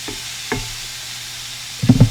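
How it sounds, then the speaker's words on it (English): Onions and vegetables frying with cauliflower rice in a pan, a low steady sizzle with a couple of brief stirring scrapes, close and alone. "Start frying up our veggies. You want to incorporate the onions into the cauliflower rice."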